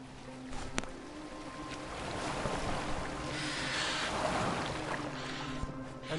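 A boat glides across open water in Assassin's Creed Valhalla, with a steady wash of waves and wind and a few faint knocks, heard alone with no talk.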